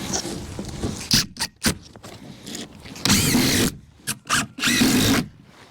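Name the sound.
driving coated 1 5/8 inch deck screws with a drill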